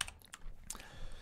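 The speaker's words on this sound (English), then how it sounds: "So if I hit Control Z on my keyboard, it does undo." Computer keyboard keys pressed in a few quick, close, light clicks, like a shortcut being typed, with no talking.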